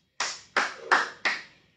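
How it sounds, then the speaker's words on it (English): Four sharp hand claps, evenly spaced and close, ring out one after another with short decays and silence between them, ending a circuit in a kids' exercise session. "Round of applause for you guys."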